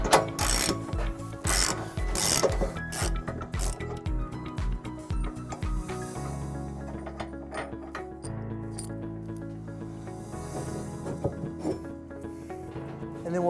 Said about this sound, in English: It's held in by this bolt that we'll remove using a 15/16 socket.